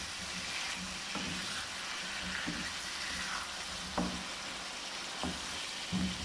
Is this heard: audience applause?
no